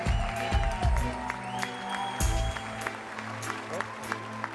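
Audience at a live Hawaiian comedy tribute show applauds and cheers loudly for Da Braddahs, with voices shouting over the steady clapping throughout.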